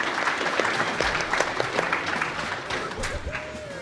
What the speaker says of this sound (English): Let's get a round of applause for Kruncha on finishing up his segment of the run.